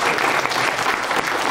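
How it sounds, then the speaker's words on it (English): An audience at an author book talk breaks into warm applause, a full, even wash of clapping close by that fills the whole short moment with no talk over it. "let's give them a round of applause for this fascinating conversation"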